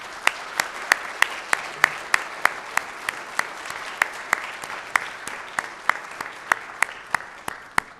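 Audience applause fills a civic State of the City event hall, a steady clatter of many hands with sharp individual claps standing out, sustained evenly for several seconds and heard alone.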